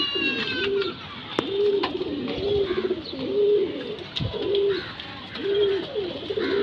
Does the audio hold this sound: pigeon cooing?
yes